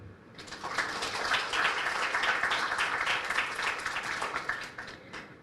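Audience applause at a forum on the economy and commerce of Santa Cruz, a dense burst of clapping that swells quickly, holds steady for several seconds and then tapers off, heard alone without talk.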